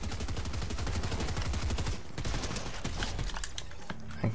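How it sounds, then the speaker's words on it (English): Gunfire in the video game Fortnite, rapid automatic shots rattling continuously, then scattered sharper single cracks and bursts, moderately loud, no talk heard. "Someone is shooting at me."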